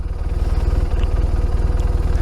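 A motorcycle engine idles close by, a loud, evenly pulsing low throb with rapid regular beats and no voices.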